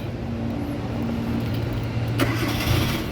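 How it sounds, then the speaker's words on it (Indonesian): The engine of a 2008 Hyundai Avega 1.5 turns over and fires up near the listener, with a sharp burst as it catches, then a low steady running hum. "ini kita coba nyalakan mobil ya"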